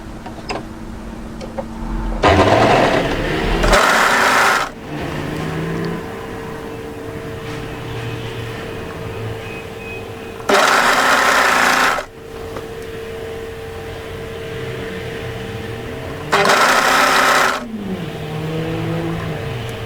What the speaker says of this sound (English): present that to your overlocker and start overlocking the side seam